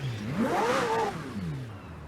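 A McLaren Senna in Forza Horizon 4, its engine blipping up in a quick rev that climbs and then falls away to idle, loud and close with no talking.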